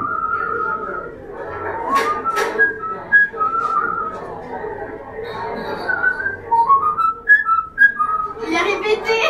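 Short whistled melodic phrases trade back and forth, a person's whistle answered by a mynah bird copying the tune with slight vibrato, with murmured voices and background noise underneath.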